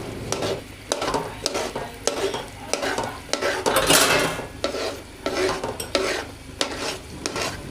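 Halwa stirred in a pan over a medium flame, with a steady rhythmic scraping of the spoon against metal about once a second and a soft sizzle of ghee underneath, close and fairly loud, with no voices.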